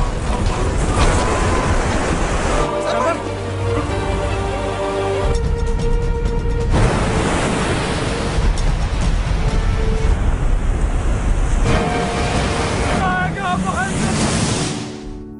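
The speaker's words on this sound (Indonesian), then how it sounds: "akhirnya terjadilah tsunami yang meluluh lantakan kota dan" A tsunami from a collapsed dam floods and wrecks a city: loud, roaring surf and rushing water with heavy wind buffeting, continuous throughout and layered under dramatic film music with occasional voices.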